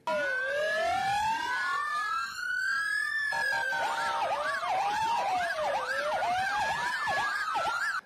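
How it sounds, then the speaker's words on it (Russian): Several ambulance sirens wail continuously and loudly in a medics' warning action in Kirovohrad region, their rising and falling tones overlapping, with traffic rumble underneath. "медики на Кировоградщине провели предупредительную акцию с сиренами."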